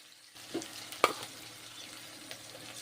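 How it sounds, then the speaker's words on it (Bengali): Onions frying in a pan for a Bengali ridge gourd fritter curry, with soft sizzling under occasional stirring and a couple of sharp utensil clinks against the pan, close by. "এখন পেঁয়াজগুলো ভেজে নিচ্ছি পেঁয়াজগুলো।"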